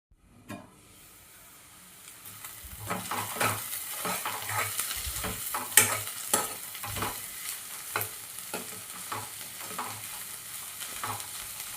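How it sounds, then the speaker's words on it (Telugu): Onions frying in a pan until light brown, a steady close sizzle with repeated stirring scrapes and occasional utensil knocks, no voices. "లైట్ బ్రౌన్ కలర్ వచ్చేంత వరకు వేయించుకోవాలి ఉల్లిపాయలు అనేవి."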